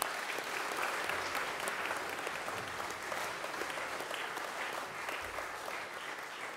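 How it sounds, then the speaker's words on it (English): Students at a chapel gathering applaud themselves, a steady wash of many hands clapping that holds evenly throughout with no voices standing out. "Give yourselves a round of applause and sit down."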